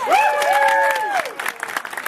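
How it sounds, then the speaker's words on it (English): A festival audience at a peasants' trial performance breaks into a round of applause, a dense wash of clapping and cheering, while a voice rises in a long cheering call over the start. "Give yourselves a round of applause."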